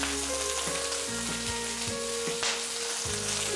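Green chillies fry in a pan as the base for a mint and coriander chutney, producing a dense, continuous sizzle with light crackles, close and steady.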